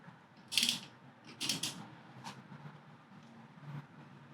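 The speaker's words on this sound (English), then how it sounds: "you want to take your ratchet and tighten them up" Ratchet clicking as brake caliper bolts are tightened on a 2016 Toyota Corolla during a brake pad change, with a few short bursts of metallic clicks spread over several seconds.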